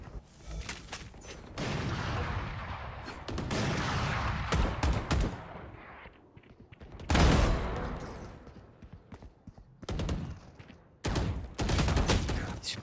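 Video game gunfire from a Valorant match, with repeated loud bursts of shots and rapid fusillades across the whole stretch, separated by short gaps and a few quieter moments, with no talking.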